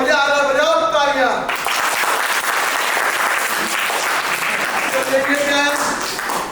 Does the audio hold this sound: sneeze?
no